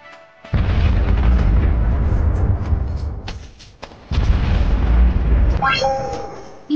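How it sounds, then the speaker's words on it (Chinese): A corn cannon fires in a video game, with two heavy booming blasts that each roll into a long, loud rumble, and a short rising electronic tone near the end. "玉米大炮。"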